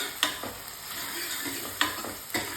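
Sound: tomatoes with chili powder frying and stirred in pan

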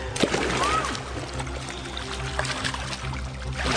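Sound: water being poured

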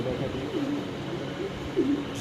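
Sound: Jacobin pigeons cooing at a pigeon farm

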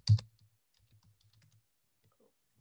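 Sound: typing on a computer keyboard

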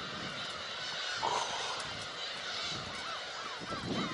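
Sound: flock of black-tailed gulls suddenly taking off toward the sea

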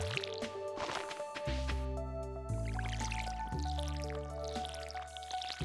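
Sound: watering crops with watering can in Stardew Valley video game

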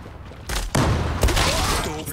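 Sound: UMP45 gunfire in video game Zula

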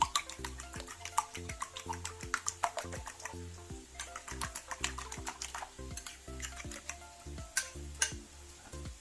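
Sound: whisking eggs with salt

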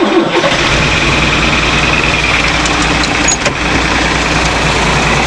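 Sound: tractor diesel engine cranking and starting, cold

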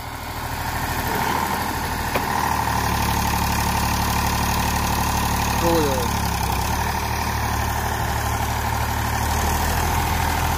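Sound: tractor engine idling

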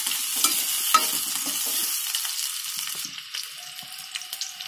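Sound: onions and green chillies sautéing in a pan

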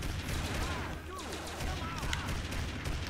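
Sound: gunfire in the video game Family Guy Back to the Multiverse

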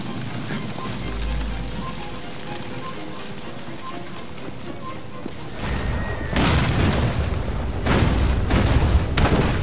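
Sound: Templar bomb explosions, video game Assassin's Creed Syndicate

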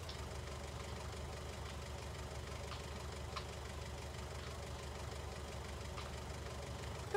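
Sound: tractor engine in Farming Simulator 19 video game

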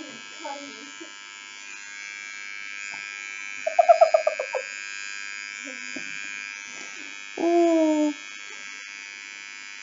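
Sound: electric razor shaving a head

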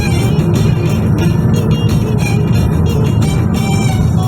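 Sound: intercity bus to Bursa driving past

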